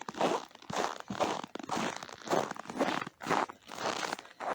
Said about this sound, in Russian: Как вкусно хрустит снег под ногами.